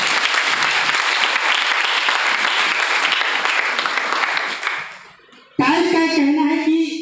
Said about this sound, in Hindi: आप अपने लिए जोरदार